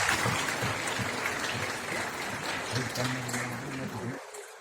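An audience at the National Film Awards ceremony in India applauds steadily, a dense crackling wash of many hands clapping, with a voice speaking over it, until it cuts off abruptly.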